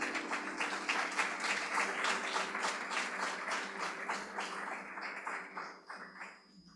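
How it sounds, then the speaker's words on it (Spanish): A church congregation breaks into loud, sustained applause, dense clapping that holds for several seconds before thinning and fading away near the end. "Dale un fuerte aplauso al Rey."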